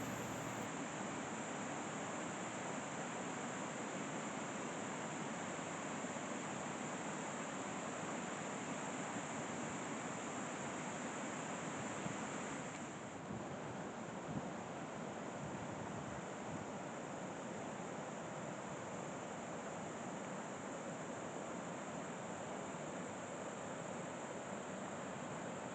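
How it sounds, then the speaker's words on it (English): A waterfall beside the Amish Bridge at Dogwood Canyon Nature Park, a steady broadband rush of falling water that holds unchanged and fairly faint throughout. "This is a shot of the waterfall by the Amish Bridge."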